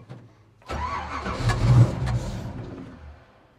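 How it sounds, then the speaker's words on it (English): A 1968 Ford GT40 replica race car with carburettors cranks briefly, then its engine catches and roars up before settling back down, close and loud, with no talking. "let's see if we can get it to fire up"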